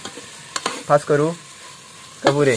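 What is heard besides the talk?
stirring and frying onions in a pan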